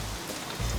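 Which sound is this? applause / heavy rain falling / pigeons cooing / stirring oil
heavy rain falling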